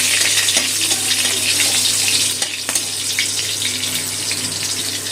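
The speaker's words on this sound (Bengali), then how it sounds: "ফোড়নটা একটু তেলে ভেজে নেব।" Black cumin seeds and green chillies frying in hot oil give a steady, loud sizzle with occasional spoon scrapes, continuous and close with no talking.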